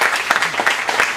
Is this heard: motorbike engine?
no